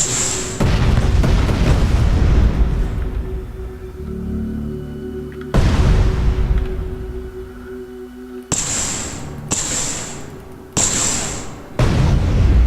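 Guns firing on a fighter craft in the Space Engineers game, heard as a run of heavy booming bursts, several loud sustained volleys separated by brief pauses, then three short sharp bursts in quick succession near the end.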